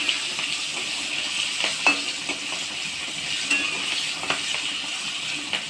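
Whole small onions fry with turmeric in a pan for khichuri, giving a steady close sizzle with a few soft stirring scrapes and clicks, no voices.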